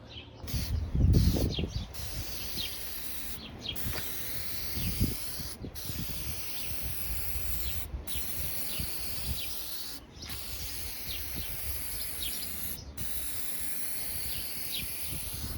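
Bursts of aerosol coating are sprayed onto a car headlight during restoration, soft hissing passes broken by short pauses, fairly faint and close, with no talking.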